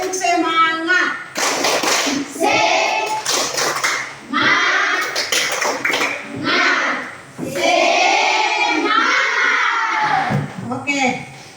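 A class of elementary schoolchildren repeats the 'tepuk semangat' clapping chant, loud group voices shouting alongside sharp rhythmic hand claps, close by, in several energetic bursts with brief pauses between them.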